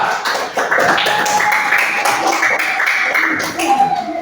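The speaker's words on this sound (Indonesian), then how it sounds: "Ya, tepuk tangan buat Za." Schoolchildren in a classroom clap for a classmate, a dense, fairly loud ripple of hand claps that carries on for several seconds with some voices underneath.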